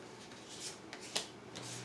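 Soft riffling and flicking of tarot cards, quiet and close, with a few brief sharper snaps as the deck is shuffled.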